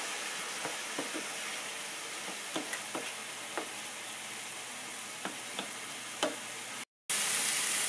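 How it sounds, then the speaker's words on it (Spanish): Chopped onion sizzles steadily in a frying pan with paprika, stirred now and then with scattered scraping clicks of a utensil; close and continuous, no talk, ending in a brief silence and a burst of brighter hiss. "ahora ya la cebolla se ve bastante cocidita, fritita"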